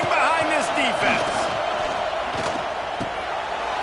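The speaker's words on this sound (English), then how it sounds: "this crowd is getting behind this defense" A college football stadium crowd at UCLA vs Michigan roars loudly behind the defense on a big third down in the red zone, with whoops and shouts rising early before settling into a sustained din.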